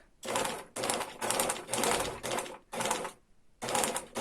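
A sewing machine stitches a straight seam in close, steady bursts of rapid mechanical clatter, stopping briefly between runs.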